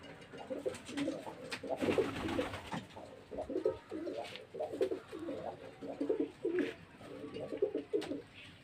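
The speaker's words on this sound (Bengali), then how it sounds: "এটা আমার অনেক সুন্দর একটা ব্লাডের কবুতর" Pigeons of a prized blood line coo softly and repeatedly in a pigeon loft, with low rhythmic throaty calls that overlap through the whole clip and stay faint and near.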